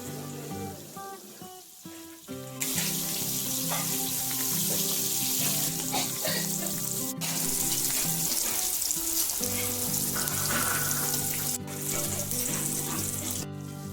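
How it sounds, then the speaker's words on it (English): Fish frying in a pan for Dohkhleh, a loud continuous sizzle and crackle close by that swells after a quieter start and holds steady, with occasional clanks of utensils. "you can fry the fish and mix it along with the Dohkhleh."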